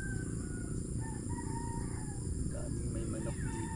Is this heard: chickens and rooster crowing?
yes